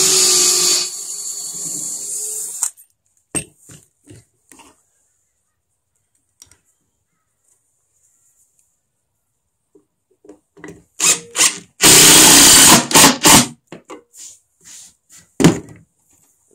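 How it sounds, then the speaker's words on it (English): A power drill pre-drills a hole in hardwood decking boards, giving a loud high whining burst at the start, then short clicks and handling noises before a second strong drilling burst and a brief final whir, all close up. "pre-drill my first hole."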